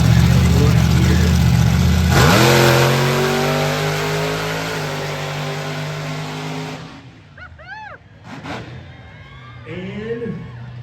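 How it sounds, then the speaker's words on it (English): A monster truck engine at a show roars loudly at high revs, climbs, and then fades. An announcer talks over the later part along with crowd noise. "that is one angry monster truck right here"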